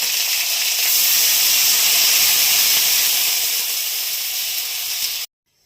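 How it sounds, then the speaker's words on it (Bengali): Water poured into a hot pan of small rui fish curry hisses and steams loudly in a steady, dense sizzle for about five seconds, then cuts off abruptly into silence. "এবার দিয়ে দেবো জল।"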